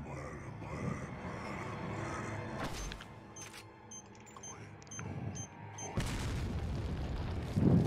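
A landmine detonating in Resident Evil 4 gameplay, a loud booming burst near the start and another heavy blast a few seconds later over a rumbling game soundscape, with no talk.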